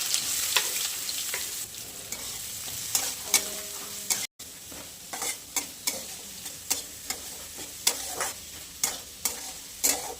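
Onion being fried in a few ladles of hot oil with mustard seeds and cumin, a steady sizzle under repeated sharp clinks and scrapes of a ladle against the pan, alone with no talk.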